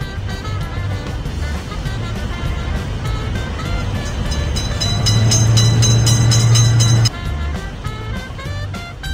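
Train rolling past a level crossing in a children's cartoon game, a loud steady rumble with a sustained horn-like tone swelling near the end before cutting off.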